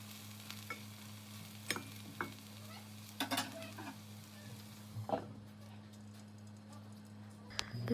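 Batter cooks in a covered frying pan with a quiet, continuous sizzle, broken by sharp scraping and clattering as it is flipped and the lid is handled; no one speaks.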